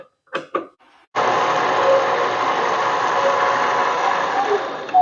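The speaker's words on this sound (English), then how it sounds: "Let's get this center drilled." A metal lathe center-drills a steel workpiece in a hobby shop, and a steady mechanical whir starts abruptly after a brief voice and holds loud and even to the end.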